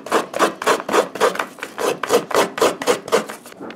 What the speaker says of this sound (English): we're going to grate our coconut to begin with here. The old-fashioned way on the sit-down grater